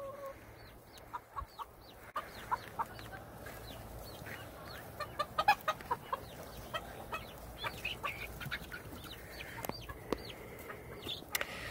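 Chickens in a backyard coop beside a garden fence cluck in scattered bursts, with a few sharper calls rising over a steady outdoor background that stays moderately faint throughout.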